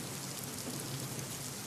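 Heavy, cloudburst-like rain falls over a water-logged market in Sinnar, a faint, even, continuous hiss of rain with no other distinct sounds.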